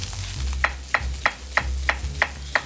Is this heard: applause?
no